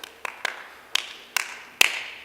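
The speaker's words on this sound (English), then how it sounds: "applause." Sparse, uneven clapping: six sharp claps spaced irregularly over two seconds, close and moderately loud, with no voices.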